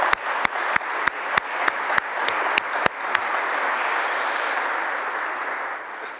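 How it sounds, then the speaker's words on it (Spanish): Audience applause at a talk on religious figures linked to the military, opening with a run of sharp, evenly spaced loud claps that quickly blend into sustained, dense clapping from a crowd, carrying on steadily to the end with no voices. "si me permiten un aplauso para él"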